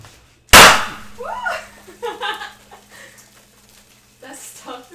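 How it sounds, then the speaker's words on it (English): A confetti cannon fires once with a sudden loud, sharp blast, followed by voices talking and laughing. "Last confetti cannon."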